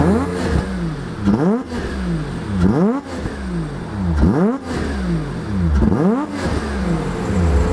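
A car engine revs hard again and again, its pitch sweeping up and dropping in repeated cycles, loud and close with a rasping, bike-like edge.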